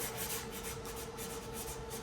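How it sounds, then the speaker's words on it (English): Steady, continuous scratchy rubbing of sandpaper scuffing the body of a 1932 Ford Coupe hot rod, close and even, with no voices. "I'm gonna have to go in there with some sandpaper and scuff that"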